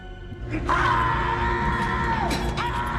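A man in a Hollywood prison film yells loudly to call everyone, a sustained strained shout over a noisy, busy background.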